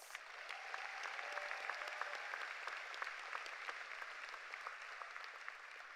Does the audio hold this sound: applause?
yes